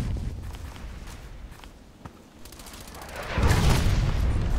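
Gunfire in the online shooter Contract Wars, a few scattered distant shots early, then a louder burst of rapid firing swelling near the end, with no voices over it.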